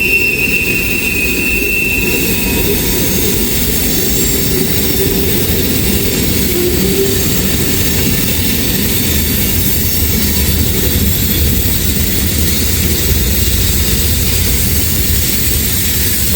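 A freight train hauling potash cars rolls through Hamilton, a loud, continuous rumble of wagons with a high wheel squeal near the start, heard close by without voices.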